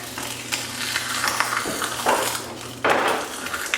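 Food sizzles and crackles steadily in a hot pan, with a few clinks and stirring noises on top.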